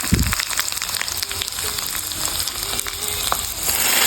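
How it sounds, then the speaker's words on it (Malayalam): Steady frying sizzle of coconut pieces, cashews and raisins roasting in ghee in a pan with light stirring clatter, close and continuous, no voices. "തേങ്ങാക്കൊത്തും അണ്ടിപ്പരിപ്പും കിസ്മിസും ചേർത്തിട്ട് ഒന്ന് വറുത്തെടുത്തിട്ട്"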